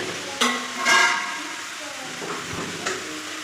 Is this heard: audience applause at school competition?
no